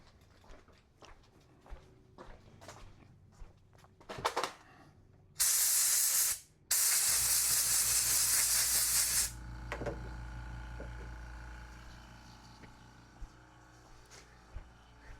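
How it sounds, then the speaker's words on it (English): A compressed-air nozzle blows leftovers out of a direct-drive knuckle buster fishing reel in two loud, sharp hissing bursts, after scattered small handling clicks, followed by a lower continuous compressor rumble that fades. "And back to the air compressor to get rid of the leftovers."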